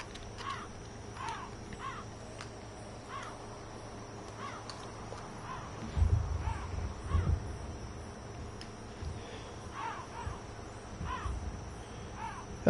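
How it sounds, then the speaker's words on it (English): Crows caw in a Dark Souls graveyard, a repeated chorus of short, fairly distant calls over a quiet ambient bed, with a few low thumps partway through. "Oh, I hear you, crow babies."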